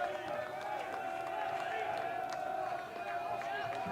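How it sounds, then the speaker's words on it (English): Crowd noise at an evening college baseball tournament game, a steady murmur of spectators and dugout chatter with scattered claps and calls, moderately loud and continuous throughout. "It's the crowd starting to get a little more vocal, as well as the dugouts."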